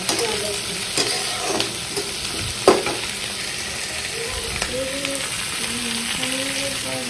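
Onions for home-style chili chicken crackle in hot oil with a steady sizzle and scattered stirring clanks, one louder near the third second, while a faint voice murmurs in the background later on.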